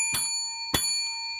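A bell sound effect marking a break-even session of scratch-off lottery tickets: two quick bright dings about half a second apart, clear and close, each leaving a ringing tail, with no talk.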